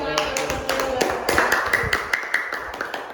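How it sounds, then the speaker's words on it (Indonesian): Schoolchildren in a classroom clap their hands at the close of a student presentation on genetic engineering, a loose series of sharp, uneven claps from a small group, with some talk mixed in. "Tepuk tangan dong."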